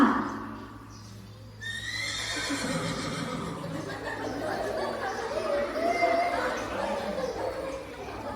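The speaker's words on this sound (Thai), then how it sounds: "และนี่คือม้าลิมากรของข้า" A horse gives a loud whinny over soft hoof clip-clops, while voices chatter and talk beneath it.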